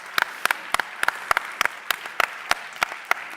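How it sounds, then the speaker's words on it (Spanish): Sparse applause from a small audience at an innovation conference: a dozen or so distinct, sharp claps in an uneven rhythm, fairly close and clear against a quiet room, with no talking. "merecéis un aplauso a vosotros"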